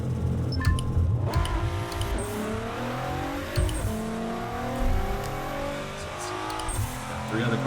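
Race cars in the Corona MotorSport video game rev and accelerate, engine notes climbing and shifting with occasional tire squeal, while someone talks over the loud, continuous engine sound.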